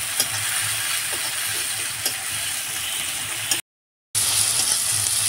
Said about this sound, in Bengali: টমেটো পেঁয়াজ আমি এখন ভালো করে ভেজে নিয়েছি